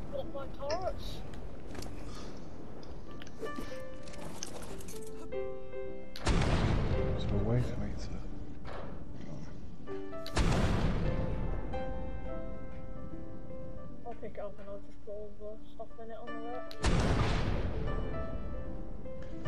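Gunfire striking a base during a video game raid, several loud heavy impacts spaced a few seconds apart over continuous game noise, with players talking.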